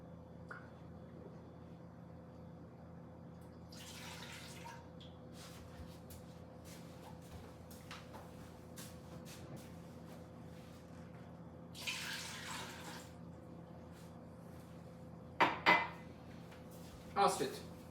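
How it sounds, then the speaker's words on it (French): A cup of milk and a cup of hot water poured into a bowl as the first step of homemade bread dough, with faint liquid splashing and occasional dish clatter over a low kitchen hum, then a few sharper clinks near the end. "Une tasse de lait, une tasse d'eau chaude."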